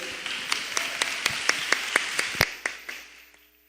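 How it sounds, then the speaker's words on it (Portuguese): An audience at a seminar applauds a student group, with a steady run of crisp, moderately loud claps that thin out and fade to quiet near the end. "Vamos bater palmas para o grupo 12"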